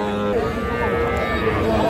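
Sahiwal breed cattle at a Thursday livestock market in Ghoraghat, Dinajpur, a long, steady low moo held close and loud over the market's background noise.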